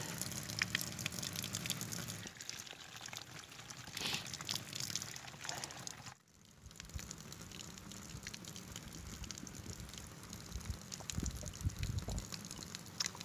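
Spring water pours steadily from a roadside source into a bottle, a continuous splashing, trickling fill heard close up, with a brief pause midway and no talking.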